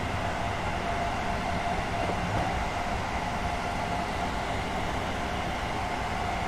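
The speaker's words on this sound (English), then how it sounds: "But they're electric trains" An electric train runs steadily in the video game Train Sim World, a constant rumbling drone with a faint whine, unbroken and even throughout, with no voices.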